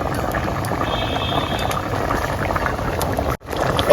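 Katla fish curry with mango, pumpkin and potato bubbling in a pot, giving a steady close simmering hiss with soft popping, unbroken apart from one brief dropout near the end.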